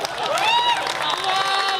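Audience clapping and crowd noise at a live comedy stage show, a steady mid-distance patter of many hands blended with voices and whoops for about two seconds.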